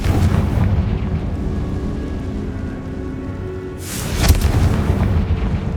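A Confringo blasting spell goes off in Hogwarts Legacy, one sharp explosive burst with a bright crack near the middle of the clip, rising out of a steady rumbling background of game ambience.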